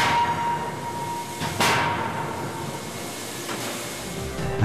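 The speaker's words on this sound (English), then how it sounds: "is finish forged in a counterblow hammer, the die halves of which move towards each other" A counterblow forging hammer, its die halves driving toward each other, finish-forges a hot part amid a loud continuous industrial roar with a heavy thump and hiss partway through.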